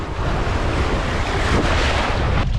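Strong wind buffets the beach on Castaway Cay, a dense, constant roar close to the microphone, with surf blended underneath and no voices.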